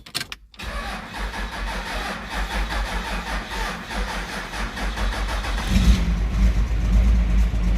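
A Cummins 12-valve diesel in a second-generation Dodge Ram 2500 with a Banks twin ram intake cranks, catches and settles into a hesitant, rough idle, then grows louder and deeper with a low clattering rumble, heard close with no talk.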